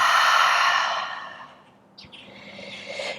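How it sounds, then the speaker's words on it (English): In a morning hatha yoga session, a long, loud exhale is pushed out through the mouth close to the microphone. It is a breathy rush that fades over about a second and a half, followed by a quieter breath and faint room sound. "And a big exhale out through the mouth."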